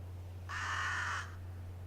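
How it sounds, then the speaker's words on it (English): A single drawn-out raven caw from the video game Bullet Witch, harsh and fairly close, rising over a steady low electrical hum and quiet background. "Just a raven."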